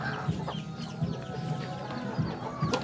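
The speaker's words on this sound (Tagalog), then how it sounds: "Yung pinakauna kong tandang mga abyan na Huluano." A Huluano rooster gives low, throaty clucks at a steady pace, close by on a small backyard farm, with no voices.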